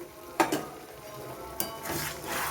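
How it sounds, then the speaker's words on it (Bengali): A utensil stirs and scrapes poppy seed paste with ridge gourd in a pan, a few sharp clinks against the metal over a soft steady sizzle, close and moderately quiet. "এবারে আমি আরও কিছুক্ষণ পোস্তটাকে দিয়ে নেড়ে চেড়ে নেবো"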